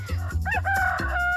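A single loud rooster crow, close and clear, rising then holding a drawn-out final note.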